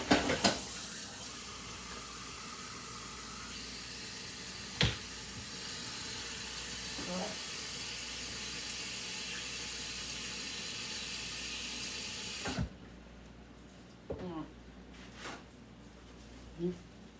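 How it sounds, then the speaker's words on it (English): Hot water runs from a kitchen tap in a steady, bright hiss for about twelve seconds before cutting off, with a few clatters of dishes before and after. "I'm putting some hot water on here."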